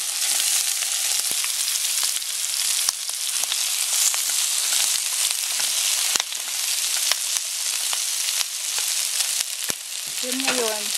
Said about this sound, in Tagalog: So, ilalagay natin yung cabbage.